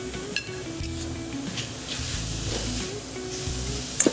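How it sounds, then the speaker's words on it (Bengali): Grated beetroot and carrot tipped into a hot kadai and stirred, a steady hissing sizzle with light scraping and a couple of metallic clinks at the end, close and unaccompanied by talk. "এবারে কড়াতে দিয়ে দিচ্ছি গ্রেট করা বিট আর গাজর।"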